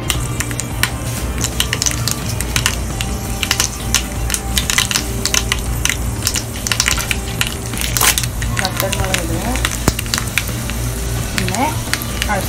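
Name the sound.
mustard seeds added to hot oil for tempering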